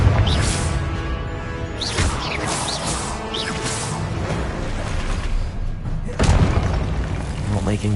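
Repeated booming fire-spell blasts from Confringo in the Hogwarts Legacy video game, loud crashes and whooshes over a dense layered game soundtrack, with shouted spell incantations between them.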